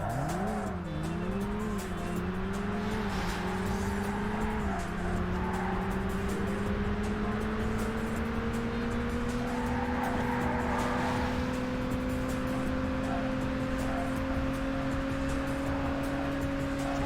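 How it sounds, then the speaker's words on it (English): The Saloon GT race car in the video game Burnout accelerates hard, its engine tone climbing steadily through the gears and holding a loud, continuous whine over a rumbling road bed. "I think this car accelerated up to the 130s faster, but I don't think it necessarily goes faster than the car I was literally just using"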